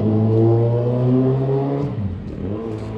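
Kawasaki Z1000 motorcycle fitted with an SC exhaust and headers, revving loud and close with a steady deep drone that drops off near the end, where a shorter, rougher rev follows.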